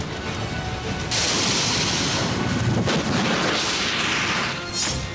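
Heavy booming blasts from a missile and rocket attack on residential areas in Nagorno-Karabakh during Armenia–Azerbaijan fighting, a sustained loud roar with a second surge midway and rumbling that fades near the end.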